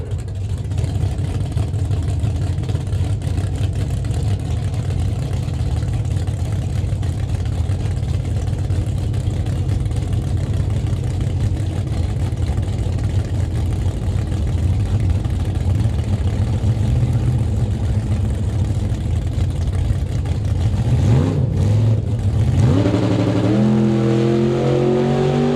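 Drag racing cars, a Chevrolet and a 1966 Ford Mustang with a 302 small block, idle with a steady deep rumble in time trials, then one revs sharply near the end, loud and close.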